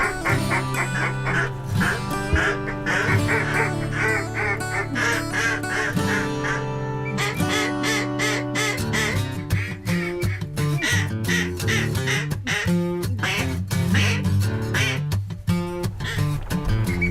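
Ducks quack repeatedly and loudly in dense overlapping chatter, with goose-like honks mixed in, at a duck hunting spot near Big Lake west of the Mississippi River.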